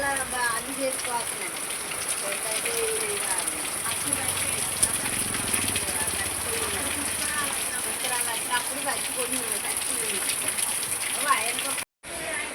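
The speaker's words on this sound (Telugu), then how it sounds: "బయట వర్షం పడుతుంది" Rain falls outside in a steady, even hiss of drops on surfaces that lasts throughout, with faint voices talking underneath.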